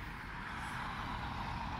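A car passing on a busy road during winter in Finland, heard as a faint, steady traffic rush with no distinct approach or fade.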